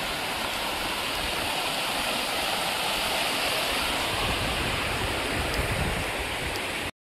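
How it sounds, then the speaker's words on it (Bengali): A canyon waterfall pours down from above, a loud, steady broadband rush of falling water that fills the whole stretch without pause, close by and alone. "এই ঝর্ণাটা ওপর থেকে আসছে,"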